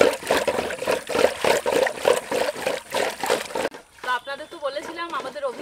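Ghol (buttermilk) is churned by hand with a traditional wooden churner, giving rapid rhythmic liquid sloshing and splashing for several seconds. A voice then speaks briefly over the quieter churning.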